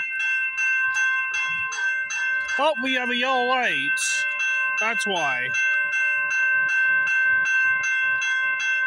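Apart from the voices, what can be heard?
train coming down the line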